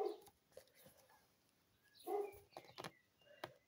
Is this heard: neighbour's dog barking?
yes